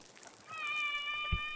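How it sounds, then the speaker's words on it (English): A pet cat gives a single drawn-out meow, fairly close and clear, over quiet room tone with a soft thump near the end. "my cat wants to be a YouTube star"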